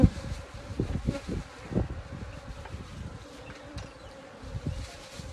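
Many honey bees buzzing around the outside of a Flow Hive with brood box, queen excluder and super: a dense, close, steady hum with individual insects droning past, and no speech.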